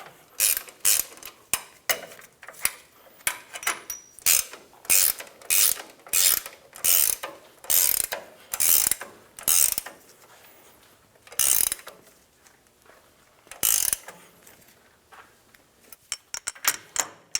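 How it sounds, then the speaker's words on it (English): Ratchet wrench snugging a bolt on a Toyota Tundra steering rack bracket, 2000-2006 truck, close and loud: repeated bursts of quick clicking strokes in a steady rhythm with short pauses between pulls, no talk. "Snug the bolt down."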